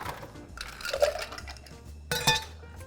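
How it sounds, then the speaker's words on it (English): Ice stirred in a mixing glass for a Bijou cocktail clinks and rattles softly in uneven bursts, with a brighter flurry of chimes near the end. "You add your ice and stir."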